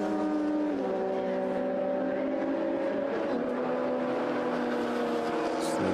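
Race cars, a VW Golf and a Lotus Elise, battling on track at Silverstone, heard as sustained engine drones with shifting pitches. The drones are loud and continuous, and one note slides downward as a car passes.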